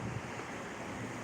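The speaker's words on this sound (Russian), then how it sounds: "Тут там наверху ветрюга." Strong wind buffets the microphone outdoors during heavy snowfall in Yakutsk, a continuous rough roar with low rumbling gusts and no voices.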